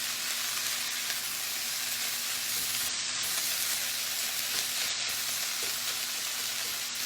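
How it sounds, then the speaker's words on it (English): Chicken fried rice sizzles steadily in a greasy skillet as it is stirred and moved around, a continuous close frying hiss with no talking. "you want to just make sure you're moving all the rice around the skillet."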